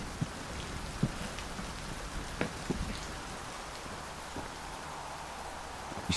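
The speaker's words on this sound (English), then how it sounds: "It's always raining down here." Steady rain falls in the video game Sancticide, a soft continuous hiss with scattered drops and occasional faint ticks and thumps, quiet and even throughout.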